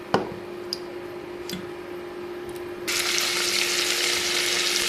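Potatoes, carrots and beans fry with panch phoron in hot oil, starting with a few clinks and soft ticks before the sizzle suddenly swells into a loud, steady hiss.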